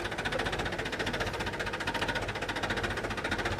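A tractor fitted with oversized monster tyres runs close by, its engine chugging in a steady, even knock that pulses without pause throughout.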